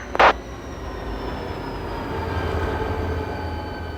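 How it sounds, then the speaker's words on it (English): An Alaska Railroad express train pulls into Denali Park Station, a steady low rumble of rolling cars with a faint high whine, opening with one brief sharp squeal or clank. "the other express train is pulling into Denali Park Station"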